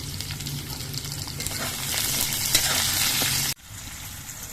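Salted potatoes frying in oil in a pan, a close, even sizzle that swells slightly louder before cutting off abruptly, then resuming more faintly.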